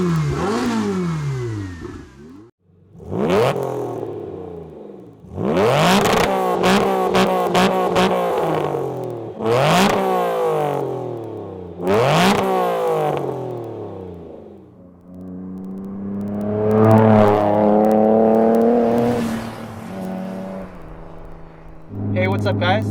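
Jim Glickenhaus's SCG 003 race car engine revs up loud and close in a series of sharp rising blips, then one longer, sustained high rev before a last short burst.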